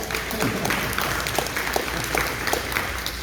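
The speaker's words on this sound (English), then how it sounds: "Let's give him a round of applause." At a talent show held in an outreach center, an audience gives a brief round of applause, a moderate wash of clapping with a few louder individual claps and voices mixed in.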